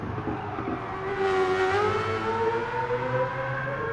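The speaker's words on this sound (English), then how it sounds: "I love the sound of this car. This thing is just so fun sounding." The Mazda RX-Vision GT3 concept race car in Gran Turismo Sport sings with a steady, high engine note that rises as it accelerates, then holds a sustained whine, loud and alone.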